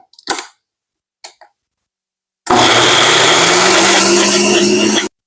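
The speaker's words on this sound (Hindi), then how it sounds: "इसे बहुत अच्छी तरह मिक्स करना है ब्लेंडर में।" A couple of brief clicks, then a blender mixing milk for homemade mozzarella roars to life, running loudly and steadily for a few seconds before cutting off.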